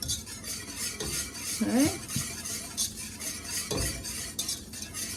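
A simmering cheddar-beer cheese sauce is stirred in a pot, giving soft scraping and clinking of a utensil against the metal over a faint bubbling sizzle, with a brief spoken word partway through.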